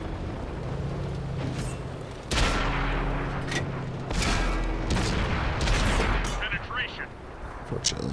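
Tank guns fire in a video game battle, several heavy booming shots with low rumbling tails over continuous game noise, and a person talks throughout.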